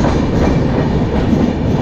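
An LHB-coach Howrah–Dhanbad Black Diamond Express rolls along with a loud, steady rumble and wheel clatter, heard from close by inside the train, with no voices.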